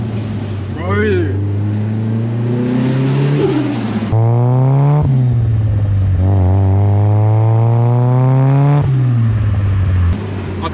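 A Nissan S15 with a loud modified exhaust revs repeatedly, the deep engine note rising and falling in long sweeps, close and dominant throughout.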